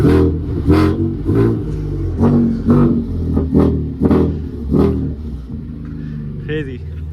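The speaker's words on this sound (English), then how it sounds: "Can you rev it once? One more." Ford Raptor engine revved in a series of sharp, loud bursts up close, each roar dropping back to a rumbling idle, while people talk between the revs.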